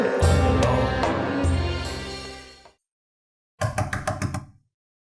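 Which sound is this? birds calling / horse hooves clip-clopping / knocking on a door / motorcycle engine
knocking on a door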